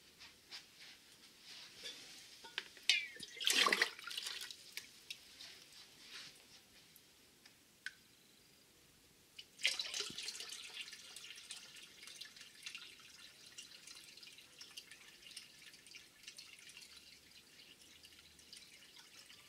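Settled water poured into a Juwel aquarium during a filter cleaning, faint trickling and splashing with a sharp louder burst of pouring, a quiet pause, then a second stronger pour that tapers off gradually.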